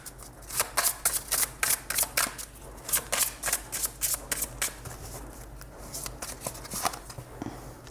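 Colored oracle cards being shuffled in quick riffling bursts, a rapid run of crisp flutters with short gaps that grows softer and looser toward the end, close up with no voices.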